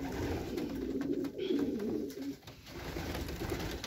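Racing pigeons coo softly inside their loft, a continuous, low, murmuring run of calls at moderate distance with no talking.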